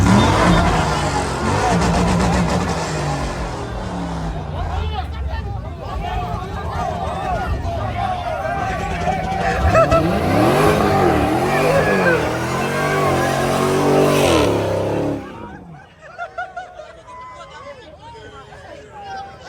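A Dodge Hellcat engine revs and roars at a car show with sliding action, loud sustained rising and falling engine noise amid excited crowd chatter, then cutting off to quieter voices near the end.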